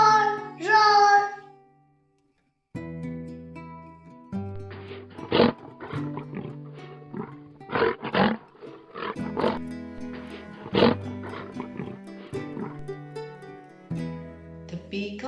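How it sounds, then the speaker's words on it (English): A lion roars in several loud, deep, repeated bursts with brief pauses between them, the calls rising and falling close up. "The lion sounds as roar, roar, roar."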